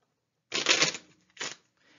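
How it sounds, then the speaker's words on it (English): A deck of playing cards being shuffled: a crisp riffling burst of about half a second, then a shorter second riffle, close and clear with no talk. "you're going to take your deck of cards, you're going to shuffle them"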